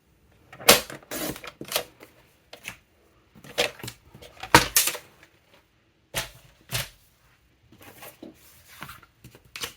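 Paper cutter or scissors slicing through two stacked sheets of cardstock at once, heard as sharp, close snips and scraping swishes that come in irregular bursts separated by quiet gaps.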